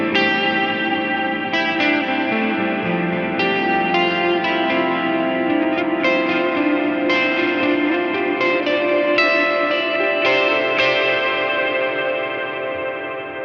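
Electric guitar through a Line 6 Helix with reverb pre-delay turned up, sustained chords ringing with a washy, echoing tail and fresh strums every few seconds, loud and continuous with no talking.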